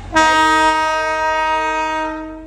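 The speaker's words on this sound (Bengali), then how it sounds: "এই যে টয় ট্রেন ছেড়ে চলে যাচ্ছে, ওই যে টয় ট্রেন ছেড়ে বেরিয়ে যাচ্ছে" A loud, sustained horn from the Darjeeling toy train blasts once for about two seconds as it departs, then cuts off, with a faint rumble beneath.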